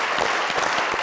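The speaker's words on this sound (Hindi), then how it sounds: "इस बात पे सिर्फ मैं ताली बजाऊंगा।" A short burst of dense crowd clapping from a studio audience at a Pakistani comedy talk show, loud and steady for about a second with no voices over it.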